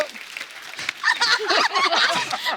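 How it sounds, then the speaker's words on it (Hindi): A studio audience at a Hindi comedy talk show breaks into sustained applause, rising after a second and staying dense and loud, mixed with cheers and a voice talking over it. "जोरदार तालियां हो जाए मनोज तिवारी के लिए।"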